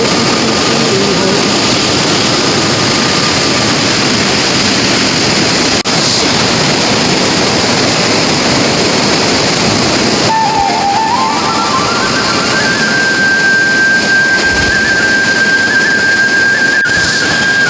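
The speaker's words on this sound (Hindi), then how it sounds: "वहाँ से जो झरना है जहाँ वो डीप में बह रहा है" Waterfall in Pauri Garhwal, Uttarakhand, a loud steady roar of falling water filling the whole stretch, with faint whistling tones rising over it near the end.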